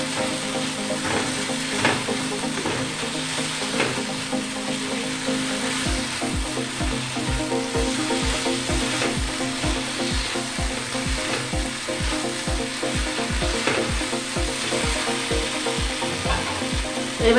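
Masala with cashew paste fries in a pan, a steady close sizzle overlaid with a regular scraping rhythm of stirring that grows more pronounced midway.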